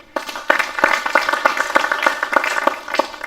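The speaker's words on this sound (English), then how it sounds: "Please can you clap for him?" Clapping at a funeral industry conference in Kenya: a small audience claps in a steady, fairly close rhythm of distinct hand claps, starting suddenly and continuing for about three seconds.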